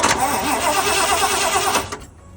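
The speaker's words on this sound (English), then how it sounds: "we seem to have voltage there, and then we try it on cranking as well" The engine of a 1975 Ford E100 van cranks on a slightly low battery. The starter grinds loud and close for about two seconds, then cuts off abruptly.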